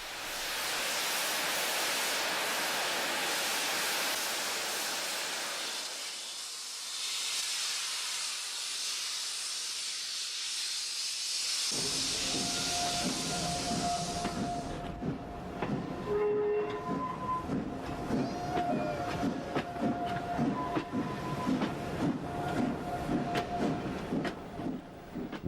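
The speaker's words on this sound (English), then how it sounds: "Once the steam locomotive, with the beautiful name of Merlin, gets started, we travel toward Portrush in the north of Ireland." The steam locomotive Merlin hauls a passenger train toward Portrush in the north of Ireland, with a loud steady hiss of steam and rolling noise that give way to rhythmic chuffing and clattering wheels as it gets under way.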